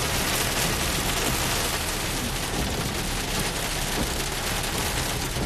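Hail pelting down during a thunderstorm around Stockton, California, a dense, steady, loud clatter of stones hammering surfaces without letup.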